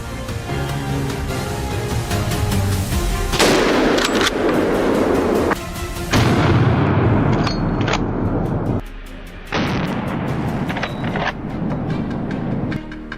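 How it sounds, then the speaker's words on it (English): Sharp gunshots ring out during a wild boar hunt on a hillside, several loud cracks in irregular succession over continuous heavy background noise, some shots close together and others spaced apart. "The shot rang out sharp and true, the bullet finding its mark and bringing down the troublemaker."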